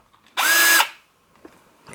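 Black and Decker 18V hammer drill motor on speed 1 whirs up sharply, runs steadily for about half a second with a high whine, then spins down, followed by faint handling clicks.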